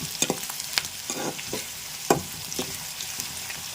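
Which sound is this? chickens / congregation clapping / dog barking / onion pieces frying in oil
onion pieces frying in oil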